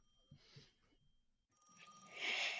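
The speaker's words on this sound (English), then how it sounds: "Oh, the phone." A telephone rings, a faint chirp followed by a louder, bright electronic ring that builds toward the end, with no voices.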